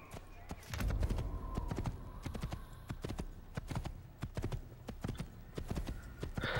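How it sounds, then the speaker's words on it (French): Rapid, rhythmic clip-clop of a white horse's hooves trotting on hard ground in Assassin's Creed, steady and close, with low background rumble. "on va prendre le beau cheval blanc"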